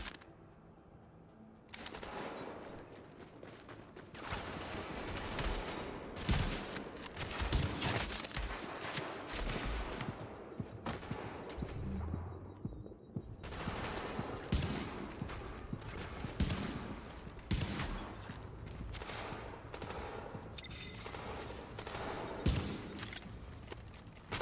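Video game gunfire comes in dense crackling bursts across a long stretch, with brief pauses between volleys and scattered sharp shots standing out over a steady low rumble.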